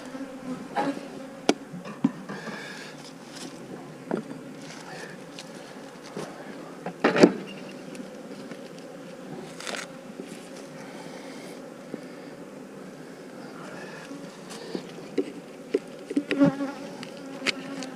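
Honeybees flying around their hives on a January day, a continuous buzzing swarm close by with occasional louder passes near the ear and faint handling knocks.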